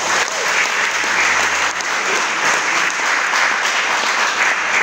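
Steady applause from a church congregation fills the space, loud and continuous throughout with no break or talk on top.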